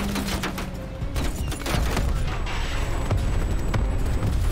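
A War Machine grenade launcher in Black Ops Cold War fires a dense, loud barrage of booming blasts and rapid explosions, layered with constant gunfire and battle noise throughout.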